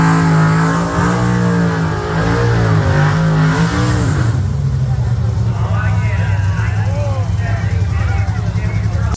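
A drag racing truck from Street Outlaws revs hard at a grudge race, its engine roaring up and down in pitch, loud and close, with a crowd and voices audible under the noise.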